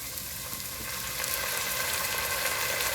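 Sofrito with oregano and tomato sauce sizzles steadily in a pan, a dense, even frying hiss that holds close and constant throughout.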